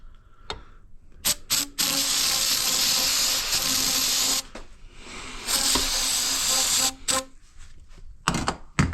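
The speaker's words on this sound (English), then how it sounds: "we might get by with just a few sprays of brake cleaner and wiping this thing out." Brake cleaner sprays hiss from an aerosol can onto a Honda CRF250L/CRF300L spring-side fork during a seal replacement, several sustained bursts separated by brief pauses and small handling clicks, close and fairly loud.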